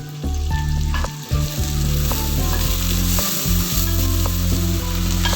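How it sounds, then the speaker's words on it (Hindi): Onions sizzle and crackle in hot oil, frying to light brown for aloo kofta biryani, with a steady, loud frying hiss, broken by brief stirring scrapes. "इसी ऑयल में अब हम ये प्याज डाल देंगे और इनको लाइट ब्राउन फ्राई करना है।"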